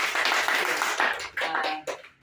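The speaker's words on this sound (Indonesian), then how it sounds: "Oke, tepuk tangan dulu buat kita." Brief applause from a school staff gathering, with dense clapping from a group of hands that fades out after about two seconds.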